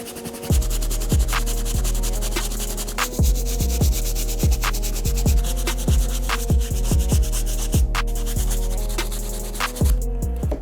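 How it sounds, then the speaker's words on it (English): A medium bristle brush scrubs the leather upper of an Air Jordan Bred 13 sneaker with steady, close back-and-forth rubbing strokes that repeat in a regular rhythm throughout, loud and alone. "Now let's move on to our medium bristle brush so we can hit the leather on this shoe."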